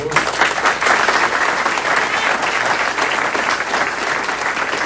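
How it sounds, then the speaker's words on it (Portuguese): A church congregation at a baptism service applauds steadily and loudly for the full five seconds, a thick wash of many hands clapping with no break. "Pode dar um aplauso a Jesus."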